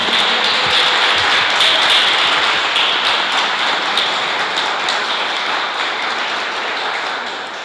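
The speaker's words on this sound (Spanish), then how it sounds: "un grandísimo aplauso al maestro Estanislao" Sustained audience applause at a catalogue presentation honouring an artist, a dense steady clapping texture filling the room from start to finish, fading slightly toward the end.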